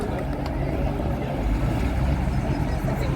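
Volvo semi truck running hard down a street drag strip in a truck-pulling event, a dense, continuous roaring engine drone at steady high load, loud throughout with a commentator's voice mixed in.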